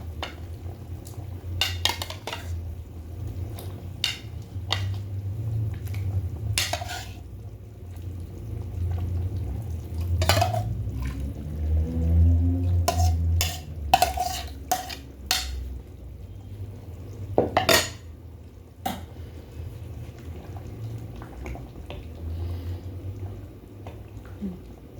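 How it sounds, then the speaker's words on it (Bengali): Hilsa fish goes into a simmering green banana curry and is stirred in a metal pot, with scattered scrapes and clinks of a spoon against the pot over a soft bubbling background and no talk. "মাছগুলো দিয়ে মিশিয়ে দিলাম, আমি আর নাড়া দেবো না।"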